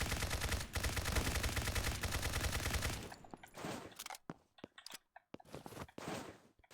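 AK-74 rifle fire in a modern Call of Duty game, a loud rapid automatic burst for about three seconds, then scattered single shots and short cracks with gaps of quiet between them.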